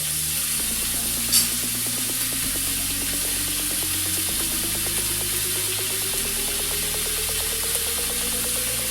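Pork chops sear in a non-stick pan with a loud, continuous sizzle and hiss, joined by a faint rising hum and a brief scrape early on, with no speech.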